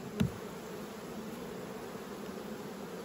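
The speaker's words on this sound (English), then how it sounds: "they got a real hollow, forlorn buzz about them" Queenless honey bee hive with its lid just removed, giving a steady hollow, forlorn buzz that drones on throughout, with a brief louder bump near the start.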